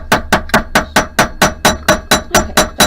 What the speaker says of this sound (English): if you hammer and do kind of a stirring motion as you hammer, meaning hit the metal and then pull off